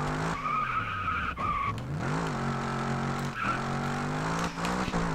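A race car in Grid Autosport skids with squealing tires and scrapes into a guardrail, engine droning steadily underneath, with a sharp thump midway and continuing tire noise throughout.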